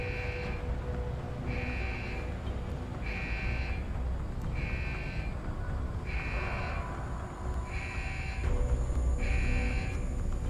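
A facility alarm in Deus Ex: Human Revolution beeps in evenly spaced, repeating pulses, roughly one per second, over a steady rumbling game background with a louder surge near the end.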